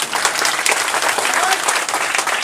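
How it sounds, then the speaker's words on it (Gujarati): A full audience breaks into enthusiastic applause at a public gathering, a thick, sustained roar of many hands clapping at even loudness for about two and a half seconds, near and unbroken by talk. "એક જોરદાર તાળીઓ આમના માટે"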